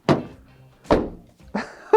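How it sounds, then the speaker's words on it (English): A Toyota Aygo X car door slams shut with a thin, tinny sound. Four sharp, close thunks come at roughly half-second intervals, and the last two are lighter clicks. "It's especially bad when you shut the door"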